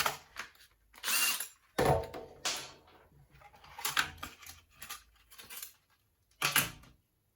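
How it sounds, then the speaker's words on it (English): A power drill whirs in short, repeated bursts through carbon fiber on a mini Hayabusa motorcycle build, starting and stopping several times with quiet pauses and mechanical clicks in between. "we're drilling through the carbon"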